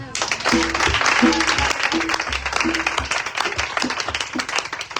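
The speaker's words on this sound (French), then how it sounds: "Acclamez pour vos vies" A church congregation claps and cheers together at a prophetic blessing service, dense applause close by with rhythmic claps and voices calling out throughout.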